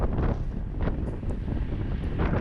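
Strong wind roars and buffets the microphone on a cyclist during a fast group training ride, a steady, loud rumble that rises and falls without pause.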